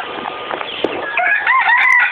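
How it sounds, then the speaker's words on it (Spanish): A rooster crows in a farmyard among other chickens offered for sale, its drawn-out, wavering call rising clearly over a background of clucking and fowl noise, close and fairly loud with no talking. "Miren, aquí tengo algunos gallos"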